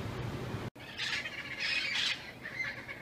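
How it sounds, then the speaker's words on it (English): Parrots in a neighbour's tree give harsh, rasping squawks in overlapping bursts after a brief gap, moderately distant and fairly faint against a low outdoor background. "these parrots are going crazy in the neighbor's tree"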